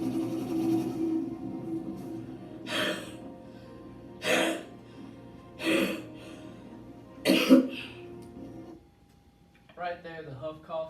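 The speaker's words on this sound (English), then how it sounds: "After 10 minutes, I do my huff cough." Several forceful huff coughs from a person with cystic fibrosis, done to clear mucus from the lungs, come in about four evenly spaced bursts, close and fairly loud, followed by a short stretch of speech.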